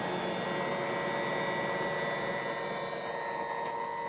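An electric mixer churns whole wheat bread dough with a steady, even motor hum and whine, close and unbroken throughout with no voices.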